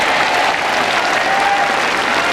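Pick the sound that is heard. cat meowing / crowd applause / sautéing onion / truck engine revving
crowd applause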